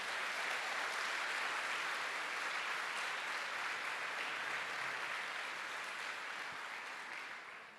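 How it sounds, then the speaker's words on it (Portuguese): Church congregation applauding during a Sunday service, a soft, distant, even patter of many hands that holds steady and then slowly fades toward the end. "aplauda bem forte a palavra de Deus"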